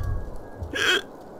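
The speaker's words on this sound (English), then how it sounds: "Got a hiccup now." A single hiccup sounds close and fairly loud, a short sharp catch in the throat, alone over a low background.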